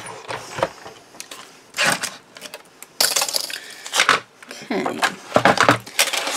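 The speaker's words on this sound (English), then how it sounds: "My squeaky die machine, I must put some oil on that." A squeaky die cutting machine runs in bursts while paper pieces are cut, giving rattling, clanking mechanical sounds with gaps between passes, heard close up.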